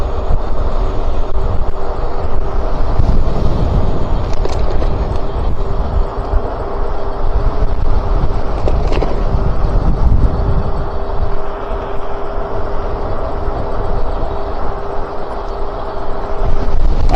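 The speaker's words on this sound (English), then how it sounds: "The wind's blowing southeast." Strong gusting wind buffets the microphone while riding an electric bike, a loud continuous low rumble with a steady hum running underneath throughout.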